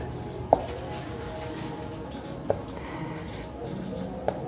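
Handwriting with a pen on paper while solving a geometry problem, soft continuous scratching strokes punctuated by three sharp taps, faint and close, with a voice speaking at times.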